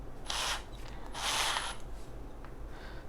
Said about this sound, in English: I'm going to use the force of the machine to put this securely in.